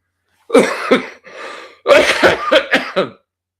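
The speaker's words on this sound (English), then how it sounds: "pardon me, the coughing is still the tracheal bullshit" A person coughs repeatedly up close, a couple of rough hacks, a brief wheezy breath, then a burst of several more coughs.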